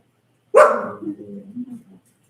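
A dog gives one loud, close bark that trails into a few softer whining, whimpering yelps before falling silent.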